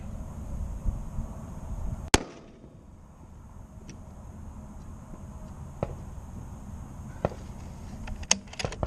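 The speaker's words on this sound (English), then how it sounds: "then we'll get Cody dialing and shooting 600" A rifle fires once on an outdoor shooting range at a 600-yard target: one sharp, loud crack with a brief decay, then a few faint clicks and ticks over quiet ambient noise.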